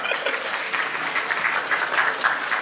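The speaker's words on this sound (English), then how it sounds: "Let's give a big applause" An audience at a panel event applauds with a steady wash of clapping that lasts a few seconds at moderate volume.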